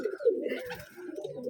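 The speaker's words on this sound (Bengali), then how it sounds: "এই যে হাসিউরের কবুতর এটা" A pigeon coos close by in soft, low, throaty rolling calls that repeat continuously through the short moment.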